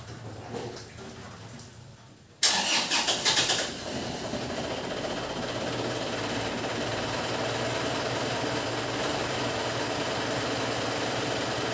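Car engine after EGR cleaning cranks and starts with a loud burst, then settles into a steady, even idle close by.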